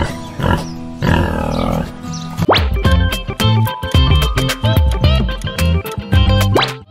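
Deep, rough grunts and snorts repeat in quick succession, a loud pig vocalizing close by with a few squealing rises.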